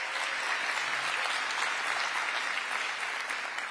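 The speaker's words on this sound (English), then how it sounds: "I actually request all of you to give a huge round of applause for LeadDev" Tech conference audience at a LeadDev event giving a sustained round of applause, a dense even wash of many hands clapping throughout, steady and unbroken, heard from within the hall with no talk over it.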